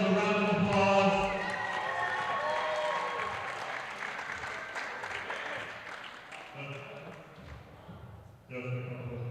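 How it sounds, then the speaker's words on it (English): Audience applause at a wrestling show at the Boys and Girls Club of Union County, New Jersey, a crowd clapping under music and a voice, fading gradually with a short burst near the end. "Please give yourself a round of applause."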